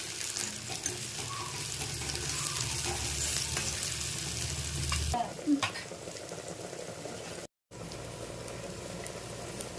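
Tomato pieces fry and sizzle in a pan for Telugu-style erra malle fish curry, a steady close crackle with occasional stirring clatter, briefly cut out near the end.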